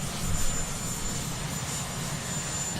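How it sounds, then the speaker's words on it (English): Marine One, the presidential helicopter, takes off at an inauguration, heard as a steady, fairly loud broadband rotor and engine roar with a low throbbing undertone, sustained throughout with no talking. "let's just watch this helicopter take off"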